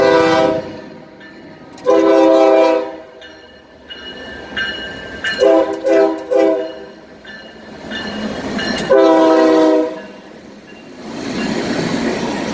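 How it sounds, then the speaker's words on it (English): A northbound Norfolk Southern freight train passes close by in Greensboro, North Carolina, sounding several long, loud horn blasts in a spaced pattern over a steady rumble of rolling cars. "Alright, northbound Norfolk Southern"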